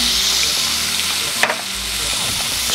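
Pork belly sizzles steadily on a grill in a backyard, a dense continuous frying hiss with faint crackles and one brief pop midway, close and loud with no voices.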